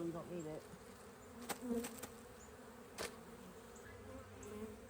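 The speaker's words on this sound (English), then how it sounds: "these bees are used to going up here because there's an entrance" Honey bees buzz around a nucleus hive being moved to a new beeyard, a low steady hum of many insects close by, with a few louder passes near the microphone and a brief word spoken.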